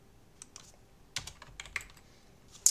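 Keystrokes on a computer keyboard: a few scattered clicks, then a quicker burst of taps, close and fairly quiet, with a sharper final key press at the end.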